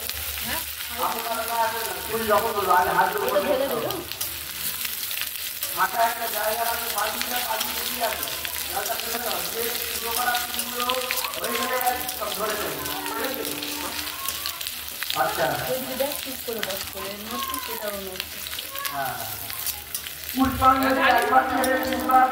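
Ginger frying in a pan for Saraswati puja khichuri, a continuous sizzle and crackle heard close, with spoon stirs and other kitchen sounds layered over it for the whole stretch.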